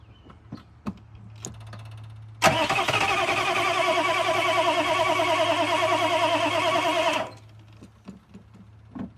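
A 1995 OBS Chevy truck's 6.5-liter diesel engine cranks on two-stroke gas: after a few faint clicks, the starter grinds loudly and rhythmically for about five seconds without catching, then stops.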